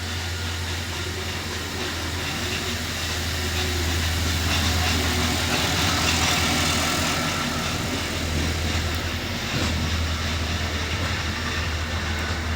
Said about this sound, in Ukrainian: Кум завів трактор, десь буде їхати